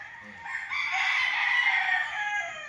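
A rooster crows once, loud and close, a drawn-out call of about two seconds at a gamefowl training farm in Liliw, Laguna.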